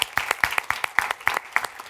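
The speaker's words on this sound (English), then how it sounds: "give them a round of applause" A small audience claps for Tamara Moore and Becca McBee at a public program, with sparse, distinct handclaps in an uneven rhythm for about two seconds and no talking.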